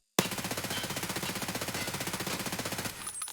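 An MP7 fires a long full-auto burst in the video game Escape from Tarkov, rapid evenly spaced shots rattling loud and close for nearly three seconds before cutting off, followed by a faint mechanical clink.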